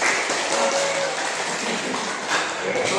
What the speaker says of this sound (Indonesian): Tepuk tangan buat Bu Sana.